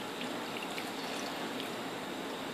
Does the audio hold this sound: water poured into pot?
yes